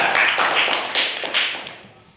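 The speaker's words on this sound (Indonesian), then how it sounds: "kita beri tepuk tangan untuk kelompok 2" A small group, such as a classroom, claps briefly for a student group's presentation, a short burst of close, light hand claps that tapers off within about two seconds.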